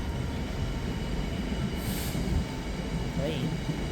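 A freight train led by locomotive 66162 rolls past at close range, a continuous loud rumble of wagons with a brief squeal, with a voice talking over the passing train.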